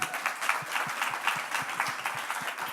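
An audience at a museum talk on Indigenous art claps for the speakers, dense, lively applause with a few distinct nearby claps standing out, fairly loud and continuous with no voices.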